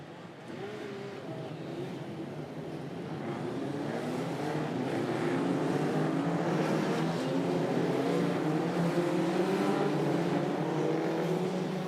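Several historic racing cars roar away from the start together, engine note building from a distant rumble to a loud, sustained multi-car drone with rising pitch sweeps as they accelerate.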